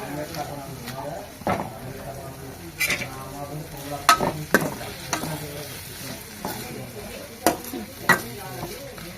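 A cook stirs tomatoes frying in a pan at home, with a steady sizzle under repeated sharp scrapes and clinks of the spoon against the metal pan, close and fairly loud.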